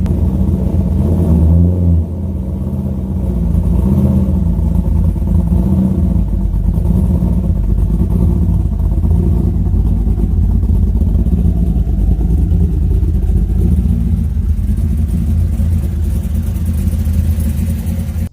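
A 2000 C5 Corvette with an aftermarket cam idles close and loud, its engine a heavy, choppy lumpy rumble that holds steady for the whole stretch with slight swells.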